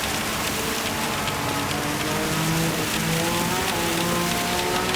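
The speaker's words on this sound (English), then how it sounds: "It's raining cats and dogs here at Suzuka." Heavy rain at Suzuka circuit in the Gran Turismo 7 racing game, a dense steady hiss of downpour drumming across the track, with faint rising engine tones of cars passing far off beneath it.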